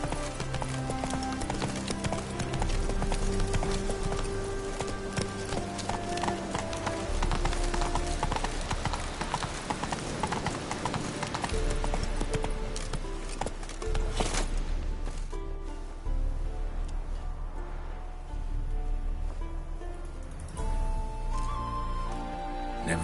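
Horse hooves clip-clopping in The Witcher 3, a steady rhythmic trot of hoofbeats with a game soundtrack underneath, easing off partway through and then resuming.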